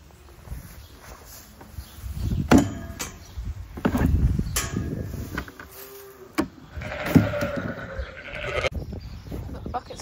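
Ewes bleat on a farm, several loud calls near and far scattered across the span, mixed with clanks and rustling of buckets being handled.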